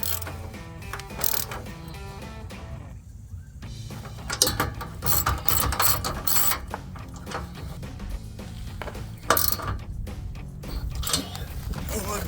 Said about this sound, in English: My ratchet here for the 2 that go up and down.